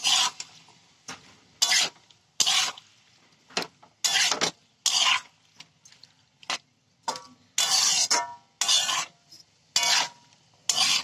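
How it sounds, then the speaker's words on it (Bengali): Small unpeeled potatoes are stirred and scraped in a cooking pan, cooked alongside ripe bitter gourd. The sound comes as a series of short, close, rasping strokes with brief pauses between them. "এবার এটাকে ভালো হবে নেড়ে নেবো"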